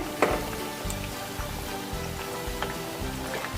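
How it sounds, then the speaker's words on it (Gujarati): Farali fasting cutlets fry in hot oil with a steady, close, rain-like sizzle and faint crackling, broken by a few soft low bumps. "આ કટલેસને તળાતા જરા પણ વાર લાગતી નથી, ખૂબ જ ઝડપથી તળાઈને તૈયાર થઈ જશે"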